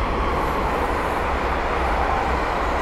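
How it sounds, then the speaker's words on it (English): Two coupled London Northwestern Railway Class 350 electric units rush past on the West Coast Main Line at Linslade, a loud, close, continuous roar of wheels and rails with no break. "the next train to pass by is a pair of London or Western Railway Class 350s."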